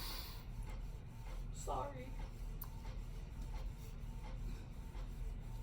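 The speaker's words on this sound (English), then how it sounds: "It's a printer printing in the background." A printer runs faintly in the background of an indoor room, a steady low mechanical rumble and shuffle beneath a brief spoken word.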